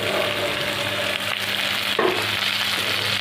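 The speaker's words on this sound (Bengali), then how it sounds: "এবার আদা চিড়ে বাটাটা দিয়ে দেবো" Ginger and green chili paste sizzling in a hot pan for a mung dal and jackfruit dish, a loud, continuous close-up crackle with a brief stir partway through.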